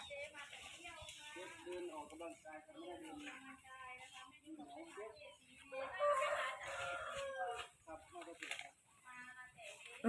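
A rooster crows repeatedly nearby amid clucking fowl, with someone talking in Thai over the birds throughout.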